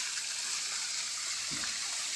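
Steady broadband rush of falling water from a waterfall at Toccoa, a constant hiss-like roar with no breaks, filling the whole clip.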